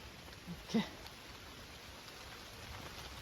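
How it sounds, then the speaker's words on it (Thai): Heavy rain falling outdoors in a forest camp while firewood is gathered, a soft steady hiss throughout with a couple of brief louder knocks near the start. "ฝนเนี่ยก็เริ่มตกแรงแล้วด้วย"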